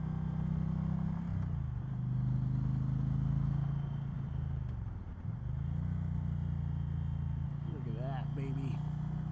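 A motorcycle ridden through twisty roads, its engine a steady close drone that dips and rises through the bends, with some wind and a brief voice near the end.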